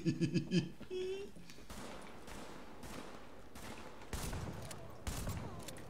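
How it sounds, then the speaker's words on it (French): Explosive-round gunfire in the video game The Division comes in short, loud bursts of shots, the heaviest arriving near the end over steady game noise. "Balle explosif"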